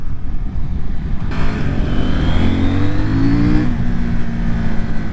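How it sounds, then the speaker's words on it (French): CF Moto NK800 motorcycle engine accelerating, a loud close roar that climbs steadily through the revs, drops briefly at a gear change, then keeps pulling, heard alone with no talk. "le moteur reprend super bien, c'est grave agréable"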